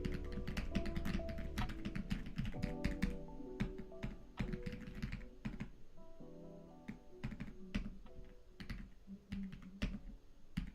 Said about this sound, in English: My keyboard makes all kinds of awesome sounds.